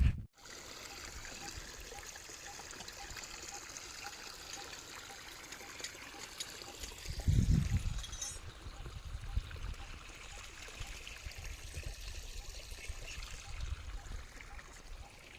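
Continuous trickling, splashing water flow from a motor pump outlet on a farm, steady throughout with a low thump midway, no speech.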